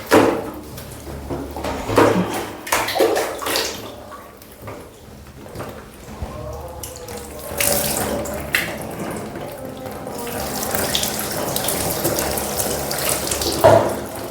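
Water is poured and splashes over a body during a ritual bath (ghusl), heard as close, irregular bursts of running and splashing water with short pauses between pours.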